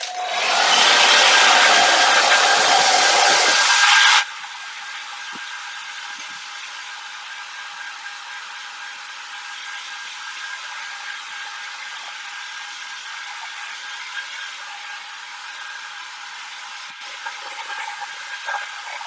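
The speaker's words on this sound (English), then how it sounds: "So just grab my hair dryer" A hair dryer roars loudly for about four seconds, then drops to a softer, steady whirring hum that continues to the end.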